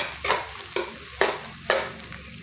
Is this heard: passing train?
no